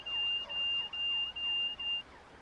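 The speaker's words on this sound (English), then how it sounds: "It's going to beep me now." Cab warning beep in a Class 350 train in Train Sim World 5: a steady, high, pitched tone pulsing five times in an even rhythm, clear and loud, then stopping.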